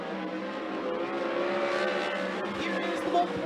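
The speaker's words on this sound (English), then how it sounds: "Second lap time for Tanner, 12:340, slightly better, but still 9th quick for the 66 of Tanner Holm." A 360 sprint car runs a lap at Skagit Speedway, its engine a steady, loud racing drone that holds throughout with slight pitch shifts.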